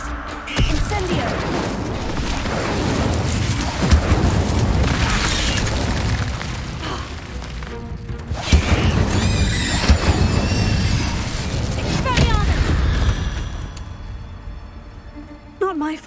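Incendio fire spells from Hogwarts Legacy roar in repeated booming bursts of flame over a dense, continuous combat din, with voices speaking briefly amid the blasts.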